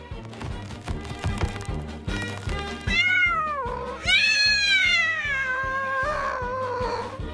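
A cat caught in a sprung trap inside a mouse-filled shop lets out several loud, drawn-out meows that rise and fall, starting partway through and overlapping one another above a steady, rhythmic tapping backdrop, with no talking.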